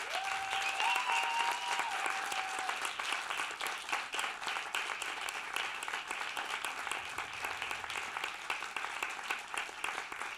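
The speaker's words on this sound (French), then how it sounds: "j'aimerais encore un grand applaudissement pour tous les candidats" A university thesis-presentation audience applauding the candidates, a dense, even roar of many hands clapping that carries on steadily for about ten seconds, with a faint tone briefly audible at the start.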